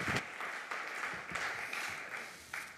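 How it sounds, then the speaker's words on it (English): Audience at a conference panel applauding the speakers, a steady, fairly faint round of clapping that runs continuously without talk. "Vamos a darles un aplauso. A big round of applause,"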